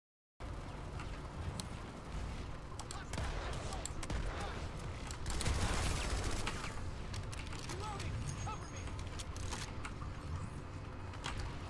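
Anti-turret gunfire in Planetside 2 rattles as dense, continuous shots that swell in the middle, under a steady background rumble.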